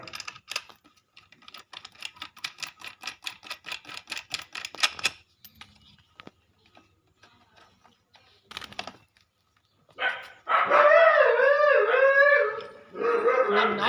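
Dogs bark and howl nearby: a run of quick sharp taps and barks, a quiet gap, then a loud, wavering, drawn-out howl near the end.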